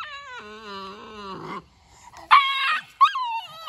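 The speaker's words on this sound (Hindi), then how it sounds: "कैसे भौंकता है" Small puppies living at a temple let out a series of loud, close, high-pitched yelps and whining barks, with several sharp bursts after a brief pause.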